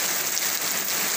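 Heavy rain pours down in a steady, dense hiss of drops striking surfaces outdoors during a downpour that floods the area, continuous and close with no voices.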